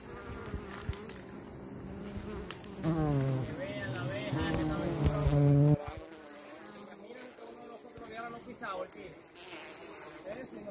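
A bee buzzes close by on a mango farm with a wavering drone that rises and fades, while people talk quietly nearby in Spanish.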